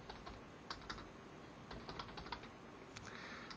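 Computer keyboard typing in short bursts of quiet clicks against a steady background hiss, typed into a web search, with no voices.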